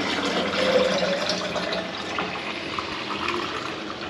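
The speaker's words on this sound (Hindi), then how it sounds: "मिट्टू पाना डाल रही है जग में।" Water poured steadily into a jug at home, making a continuous close gushing and filling sound with no talking.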